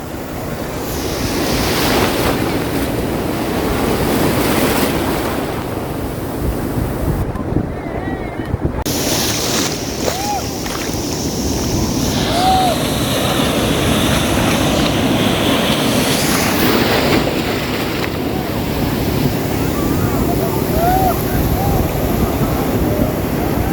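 Sea waves break continuously at Suryalanka Beach at sunrise, recorded from a phone held out in the water, with steady rushing surf and heavy wind buffeting the microphone throughout.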